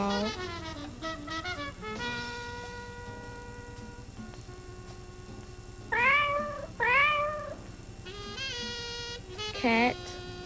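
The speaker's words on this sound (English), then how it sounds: "Cat." Several drawn-out cat meows, some rising and falling in pitch, with a couple of louder cries near the end against a quiet background.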